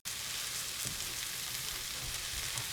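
Minced garlic and washed greens fry in a hot pan with a steady, dense sizzle that holds level throughout, close and continuous with no talking.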